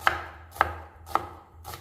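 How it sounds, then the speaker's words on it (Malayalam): A knife slices onions on a cutting board in a home kitchen while chicken curry is being prepared. Four crisp, evenly spaced chops sound close and clear, with no talking. "സവാള കീറി കൊടുക്കുക"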